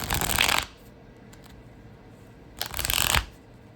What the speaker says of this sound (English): I'm going to shuffle for you guys